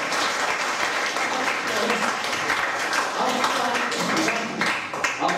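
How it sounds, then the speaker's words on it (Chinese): Steady applause from a high school classroom during a remedial math lesson, many hands clapping together for a student without pause for the whole stretch, fairly close and dense. "给你一个掌声"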